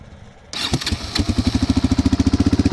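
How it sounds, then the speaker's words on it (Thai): A Yamaha Raptor 660R ATV engine with twin carburetors cranks and catches after a quiet start, then settles into a loud, fast, regular putter, idling and revving close by. "มาฟังเสียงเครื่องยนต์ครับ"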